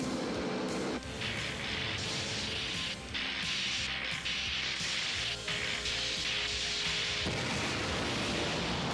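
An explosion in a cartoon comes as a loud, sustained rumbling blast that rolls on for several seconds with noisy, crackling bursts before it cuts back.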